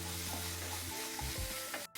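Thick tomato, onion and spice masala gravy sizzles steadily in a pan while it is stirred and mixed, with a few scraping strokes toward the end. No voices.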